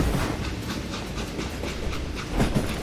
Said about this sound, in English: detach the express car from the rest of the damn train